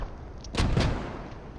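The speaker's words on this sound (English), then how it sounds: "that's a heck of a lot of mortars from the King's German Legion" Mortar fire in a Squad match: two heavy booms in quick succession land about a fifth of a second apart over a steady background rumble, then fade back into ambient noise.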